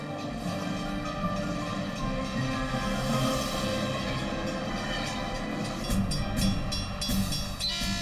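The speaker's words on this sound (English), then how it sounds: "The train barreled through the light at nearly 50 miles per hour." A train speeds along the track at nearly 50 miles per hour, giving a loud, steady rumble with rattling wheels that fills the whole stretch and swells slightly toward the end.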